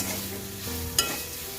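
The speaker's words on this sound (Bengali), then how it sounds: "দিয়ে একটু ভালো করে কষিয়ে নেব।" Seed banana sautéed with spices in a kadai, a soft stirring and frying sizzle throughout, with one brief sharp scrape of the spoon against the pan near the middle.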